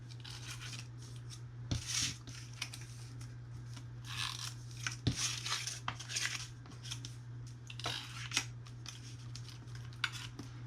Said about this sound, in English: I am going to just place some tape